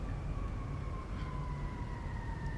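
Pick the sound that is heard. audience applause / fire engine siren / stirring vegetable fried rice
fire engine siren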